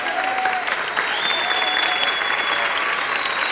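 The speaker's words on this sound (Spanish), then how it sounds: "Un aplauso para los directores." Sustained, dense applause from an audience at a choral concert, honouring the choir directors; loud, even clapping with a thin whistle running through, steady from start to finish.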